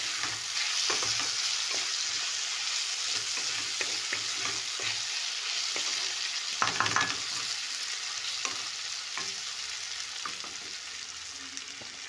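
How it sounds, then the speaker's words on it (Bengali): Masoor dal with turmeric and salt is stirred in a pan, a soft continuous sizzle broken by repeated scraping strokes of the spoon, fairly quiet and close. "হলুদ দিয়ে আমি নাড়তে থাকি"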